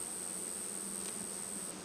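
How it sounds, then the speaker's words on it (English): Honeybees hum steadily inside the open brood chamber of a hive during an inspection, a close, even, faint buzz with no voices. "lots of bees doing their job"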